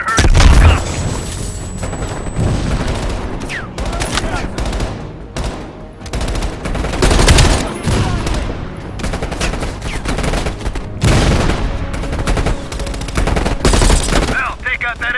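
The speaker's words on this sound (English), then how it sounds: "Now, take out that MG." Rapid machine gun bursts and heavy gunfire in the Call of Duty: Black Ops Cold War battle, loud and sustained with booming blasts, shouted voices breaking through now and then.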